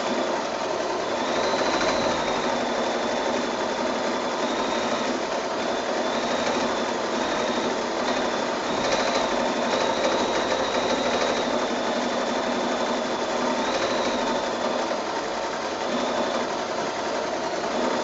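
A sewing machine stitches free-motion doodle quilting, its motor running in a continuous close rattling hum with slight shifts in speed from start to finish.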